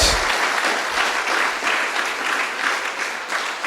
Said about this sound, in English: Can we give a full and a loud round of applause for that?